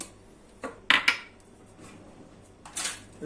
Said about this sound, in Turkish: çırpma telimle güzelce bunları çırpıyorum